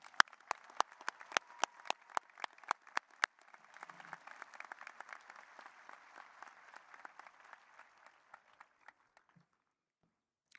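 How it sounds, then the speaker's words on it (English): A crowd at a high school commencement ceremony claps for graduates, opening with a few sharp isolated claps before swelling into sustained applause that gradually thins out and fades to silence. "Please give them a round of applause"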